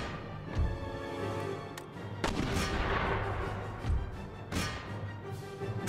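Battle in the video game Empire: Total War with artillery and gunfire, sharp cannon and musket reports cracking out at irregular intervals over a dense rumbling battlefield din.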